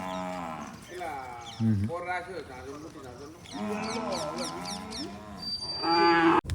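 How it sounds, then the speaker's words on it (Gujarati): Cows moo repeatedly, long low calls overlapping one another nearby, while people talk in the background. "લાલભાઈ ની ગાયો જોઈ"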